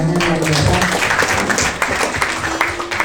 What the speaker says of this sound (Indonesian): Tepuk tangan dulu pertanyaannya luar biasa